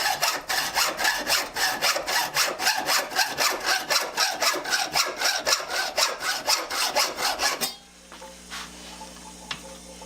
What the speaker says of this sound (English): With it held securely in the chuck jaws, take this 18 tooth per inch hacksaw